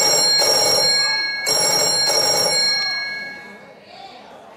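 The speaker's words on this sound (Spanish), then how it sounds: "Teléfono." A telephone rings in a Spanish afternoon television studio, with repeated ringing bursts over studio chatter and voices talking throughout.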